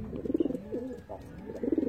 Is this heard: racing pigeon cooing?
yes